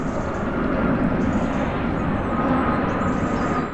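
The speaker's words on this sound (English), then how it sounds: "Planes like this are burning 5 or 6 tons of carbon every hour they're in the air" A fixed-wing airplane roars steadily overhead, a loud, continuous broadband engine rumble with no break across the whole stretch.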